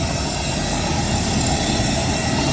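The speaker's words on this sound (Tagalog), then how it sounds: "Ito yung eroplano papuntang Batanes." A small propeller airplane bound for Batanes runs its engine at Tuguegarao airport, a loud, steady, close droning roar that holds without a break and with no speech.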